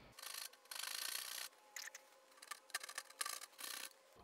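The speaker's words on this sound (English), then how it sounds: "I am going to use a coping saw" Wood cut by hand with a coping saw for dovetail joinery, quick rasping strokes in uneven bursts, close but quiet, with no talking.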